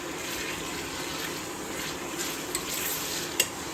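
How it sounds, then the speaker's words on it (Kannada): Chicken biryani mixture with turmeric being stirred in a pot, a steady close scraping and wet churning with a couple of small clinks near the end, no voices. "ಚಂದ ಮಿಕ್ಸ್ ಮಾಡ್ತಾರೆ"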